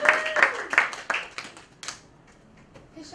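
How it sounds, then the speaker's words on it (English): Brief audience applause with a few close claps that fade within about two seconds, then a quieter stretch with faint voices. "let's go ahead and give her a round of applause."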